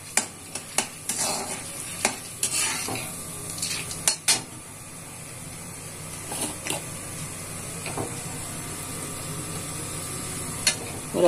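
Mustard seeds and chana dal fry in hot coconut oil. A steady sizzle runs under sharp, scattered pops and clicks from the seeds and the occasional knock of a utensil against the pan.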